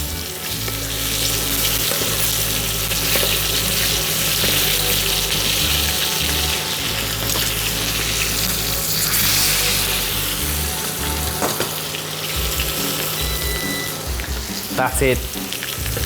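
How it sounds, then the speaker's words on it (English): Steak sizzles loudly in a hot pan while being basted with butter, a continuous crackling fry with spoon scrapes and clinks near the end, and a brief spoken remark. "Just get that butter and just keep basting it on top."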